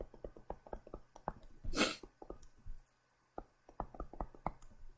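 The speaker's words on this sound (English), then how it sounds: "sneezing a lot" A single sharp sneeze in the middle of a quiet room, a loud breathy burst standing out among soft clicks and small handling noises.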